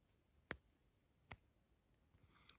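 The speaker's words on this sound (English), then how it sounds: "On the other side, what we have is a pair of scissors" Scissors on a SOG Powerlitre multi-tool are folded open, giving two sharp metallic clicks close up and a faint tick afterward in an otherwise quiet setting.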